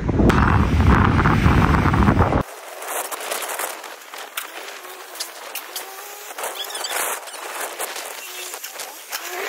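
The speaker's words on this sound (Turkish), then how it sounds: "Şu an acayip efil efil rüzgar esiyor." Steady outdoor evening wind rushing and buffeting the microphone in a garden, a loud gust burst at the start, then softer continuous blowing with faint rustles.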